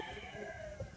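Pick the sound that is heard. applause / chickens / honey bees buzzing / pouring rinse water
chickens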